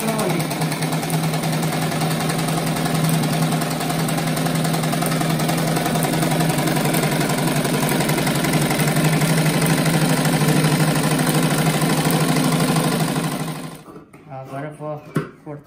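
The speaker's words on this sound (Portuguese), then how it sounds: "Agora eu tô passando uma costura em volta." A sewing machine stitches around a round patchwork rug made of fabric strips, whirring loud and unbroken for about fourteen seconds before stopping, followed by a few scattered handling sounds.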